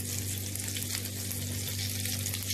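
A cube of butter sizzles in hot melted sugar caramel, a steady close crackling hiss with no voices.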